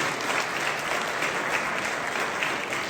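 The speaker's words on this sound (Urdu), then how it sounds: "بھرپور تالیوں میں ویلکم کیجیے گا" Audience applause fills a hall at a Lahore High Court lawyers' gathering, welcoming a speaker from Quetta; dense, steady clapping from many hands, close and loud, with no talk over it.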